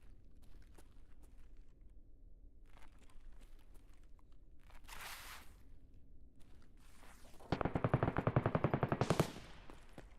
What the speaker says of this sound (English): Because I haven't heard those shots in a hot minute.